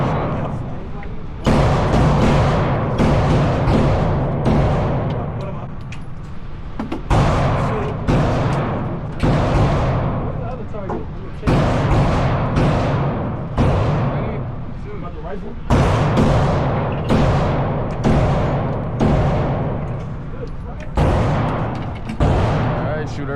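Gunfire at an outdoor gun range sounds loud and close, with booming shots repeating steadily for the whole stretch, some in quick pairs, and occasional voices between them.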